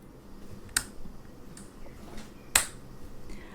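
Two crisp, isolated clicks of a light switch, spaced about two seconds apart against a quiet room background.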